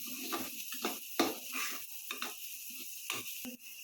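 Chili powder and turmeric being stirred in a pan for a Yippee noodle dish: a few soft scraping strokes and light clinks over a faint sizzle, close up, with no talking.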